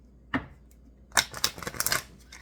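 Tarot deck being shuffled by hand, one quick riffle followed after a pause by a flurry of papery flicks and card snaps, close and fairly quiet.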